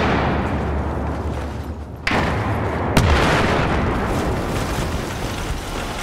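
C4 charges detonate in Battlefield 4 on the Operation Locker map: two sharp, heavy blasts about a second apart cut through a constant battle rumble, the second booming and decaying longer.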